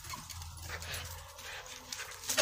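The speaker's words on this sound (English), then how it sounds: "That's my dog." A female dog pants steadily and whimpers now and then, close by at low volume, with a brief sharper yip-like sound near the end.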